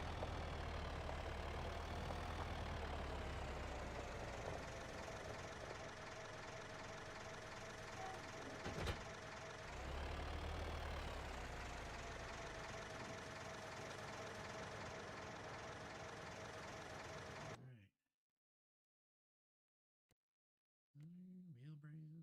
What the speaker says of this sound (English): Alright, so just be doing some tractor jockeying.